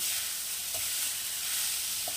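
Vegetables fry dry in a pan on low flame, giving a continuous, even sizzle with a few soft stirring knocks, close and moderately quiet, with no talking.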